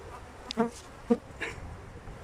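Honeybees buzz around a hive, a few brief close passes rising and fading over a faint background hum, no talk.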